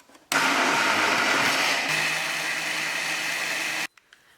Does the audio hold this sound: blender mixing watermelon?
yes